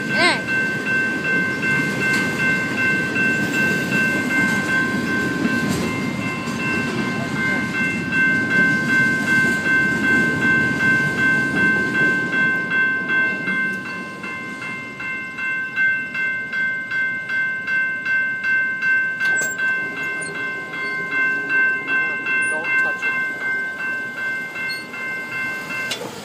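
Train rolling past with a steady rumble and rhythmic clickety-clack of railcars, loud and close, plus sustained horn-like tones. The pitch and texture shift about midway as different cars pass, and there is no speech.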